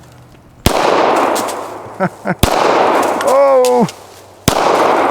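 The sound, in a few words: gunshots from a discontinued H9 pistol shooting a watermelon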